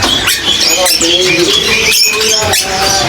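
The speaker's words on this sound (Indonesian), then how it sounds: "Jadi ini ada yang namanya burung takur ampis ya" A takur ampis songbird, offered for sale at a bird market, calls with repeated high whistled notes over a steady background murmur of voices and market bustle.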